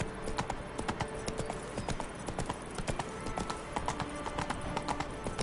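Roach, Geralt's horse in The Witcher 3, galloping with fast, steady clip-clop hoofbeats, close and distinct, repeating evenly throughout over soft ambient game sound.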